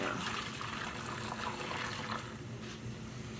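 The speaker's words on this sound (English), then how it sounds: "We'll dump this water" Water gushes and splashes steadily as it is poured out of a pot, a continuous rushing wash that fades slightly toward the end.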